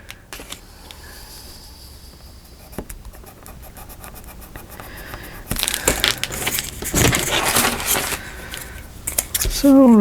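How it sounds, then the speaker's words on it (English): Craft paper pockets for a nature-themed project being cut down to size, heard as quiet scattered snips and rustles early on, followed by louder, denser paper crinkling and handling up close. A brief voice enters at the very end. "now we're going to cut these down to size"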